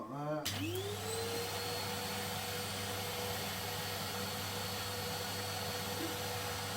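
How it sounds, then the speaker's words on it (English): Hoover vacuum cleaner switching on and spinning up to a loud, steady whine and rush, used to clean soot while sweeping a Portway Arundel wood-burning multi-fuel stove, running continuously up close. "Put the Hoover on"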